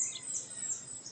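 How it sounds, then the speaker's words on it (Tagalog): Birds sing faintly and continuously by a riverside in the countryside early in the morning, a thin, steady chirping heard alone at a distance. "ang maririnig mo lang ay huni ng mga ibon"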